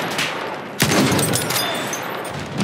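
Gunfire in the WWI shooter Battlefield 1, with a sharp burst landing near the one-second mark and then dense, continuous rattling that carries steadily to the end; no talk.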